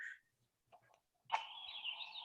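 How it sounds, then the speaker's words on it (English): Birds singing outdoors, picked up faintly through a room during an online call: a couple of brief soft chirps, then a sustained warbling phrase that carries on alone. "Nice to hear those birds in there."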